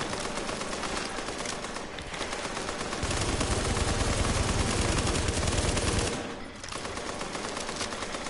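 Automatic gunfire from The Division video game rattles nearly nonstop, with rapid bursts of shots and a brief pause near the end before firing resumes.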